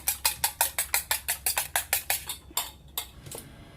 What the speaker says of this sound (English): In a bowl, beat an egg, add a pinch of salt and a dash of black pepper powder